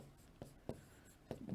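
Marker or chalk strokes on a board during a computer lesson on MS Word files, a few quiet separate scratches and taps with pauses between them, no talking.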